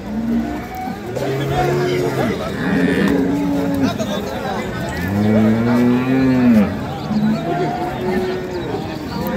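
Dairy cattle with calves moo at a village livestock market, two or three long, drawn-out calls close by, with voices and market bustle in the background.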